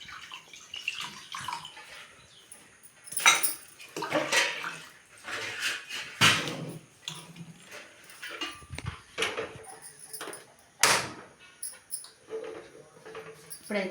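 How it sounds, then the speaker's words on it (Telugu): Water is poured into cooked dal with tomato and raw mango, village style, in irregular splashing, gurgling bursts separated by quiet gaps, close and moderately loud. "ఇందులో కొన్ని వాటర్ అయితే పోసుకుంటున్నాను"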